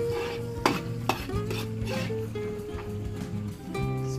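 Garlic frying in margarine in a pan for a fiesta dish, a steady close sizzle with a utensil stirring and scraping, sharp clinks against the pan.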